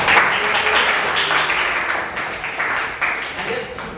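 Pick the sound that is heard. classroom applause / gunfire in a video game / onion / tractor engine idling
classroom applause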